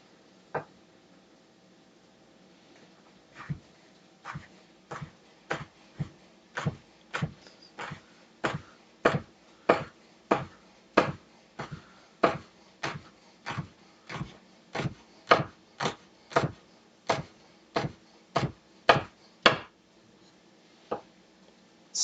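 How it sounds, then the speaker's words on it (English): A knife minces a soft jalapeno pepper, seeds and all, in quick close chopping strikes: about thirty crisp, evenly spaced taps in a steady rhythm, with no talking. "Seeds and all, but minced up so that the pieces are small."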